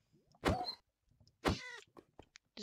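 Cat meows from the Minecraft video game come as two loud, separate calls about a second apart, followed by faint small clicks and thumps, with no talking.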